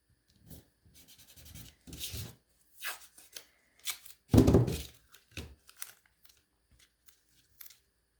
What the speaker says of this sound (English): So take your tape, just kind of go across.